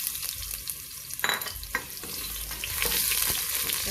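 Ginger sautéing in a pan as the start of salmon and shrimp sinigang sa miso, a close, hissing sizzle with stirring scrapes and a brief knock midway.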